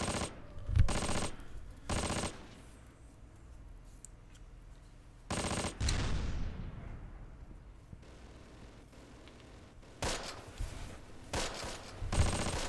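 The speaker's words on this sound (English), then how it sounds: "but also a nice little gunfight going on" Gunfight in the video game Close Combat, with several short bursts of machine-gun fire and single shots at irregular intervals, moderately loud against a quiet battlefield background.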